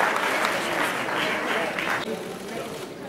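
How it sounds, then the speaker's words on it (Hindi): An audience applauds a prize winner in the under-18 folk singing category at a Haryanvi folk dance and singing competition. The dense, steady clapping from a large crowd lasts about three seconds, fairly loud throughout, with no clear voices. "जोरदार ताली के लिए।"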